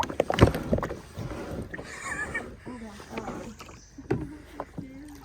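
Kayak paddle strokes splash and drip on water in a country setting, a few close dips spread through the clip, with people talking over them.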